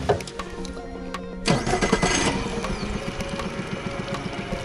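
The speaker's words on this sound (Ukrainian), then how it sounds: "Заводимо моторчик." A small outboard motor on an Alumagic 400 aluminium boat cranks and catches at once, then runs steadily at a buzzing, mid-pitched idle close by with no talking.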